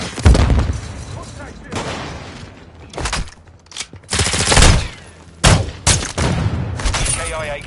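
A frag grenade detonates amid Call of Duty gunfire, with loud, repeated booms and rapid automatic bursts in uneven clusters, voices calling out between the shots.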